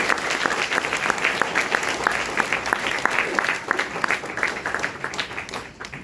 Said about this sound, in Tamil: நாதஸ்வர தவில் வித்துவான்களுக்கும் மீண்டும் உங்களுடைய கரகோஷத்தை